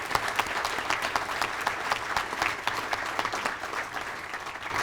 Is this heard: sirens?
no